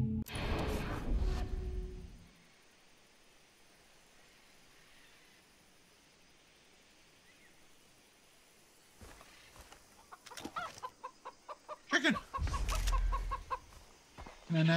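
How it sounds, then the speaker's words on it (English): A chicken clucking in the video game Far Cry 3 comes in short, rhythmic bursts near the start and again toward the end, loud and close, with a faint hiss of game ambience between them. "Can I not get anything from a chicken?"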